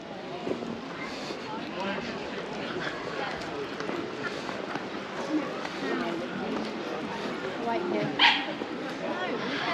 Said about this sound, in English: There's no shortage of dogs about, that's for sure.